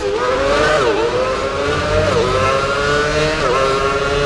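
A Formula 1 car engine in the racing game F1 Championship Edition screams at high pitch, rising through the gears with brief dips at each upshift, loud and steady with no talk.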